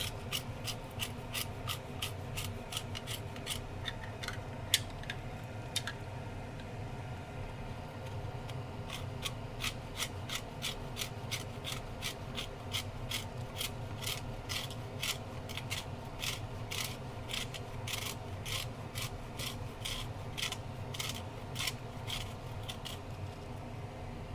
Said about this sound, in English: one secret ingredient: lemon zest